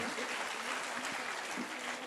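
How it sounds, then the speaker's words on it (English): A short burst of dense, steady audience applause at a quiz competition, continuous clapping at even loudness throughout. "A huge round of applause for them."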